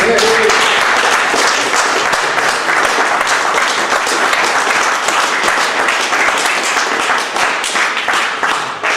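Sustained audience applause after a live poetry performance, dense steady clapping from a crowd filling the room at full loudness with a few scattered cheers or voices mixed in.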